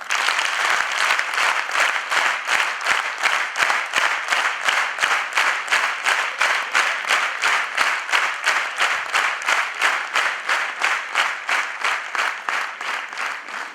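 A large audience gives a long, loud round of applause welcoming Dr. Kiran Bedi at a society event, the clapping falling into a strong, regular rhythmic beat that continues steadily for the whole stretch.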